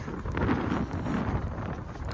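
Strong wind buffeting the microphone in low rumbling gusts, loud and continuous for a couple of seconds, with no speech.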